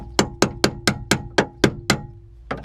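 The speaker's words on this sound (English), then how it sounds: "and then tap it with the hammer" Eight sharp metallic hammer taps on a stuck Toyota Tundra rear door part strike in a quick, even rhythm, followed by a short pause and one softer final knock.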